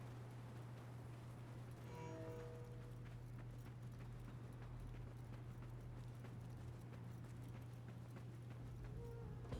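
Horse hooves clip-clopping in the Assassin's Creed video game, a quick irregular run of faint hoofbeats under a constant low hum and game ambience, no talk.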